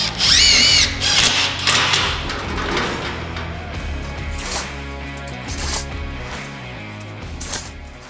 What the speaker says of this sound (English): after I've drilled the spot welds out, I'll go through and take them out.